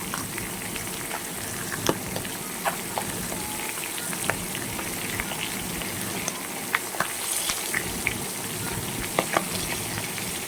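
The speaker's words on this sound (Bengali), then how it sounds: "এবার আমি মাছগুলো ভালো করে ভেজে নেব।" Pangas fish fries in a pan with a steady, dense sizzle and crackle, scattered small pops and occasional stirring noises, close and continuous.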